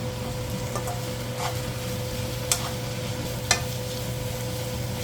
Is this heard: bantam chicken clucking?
no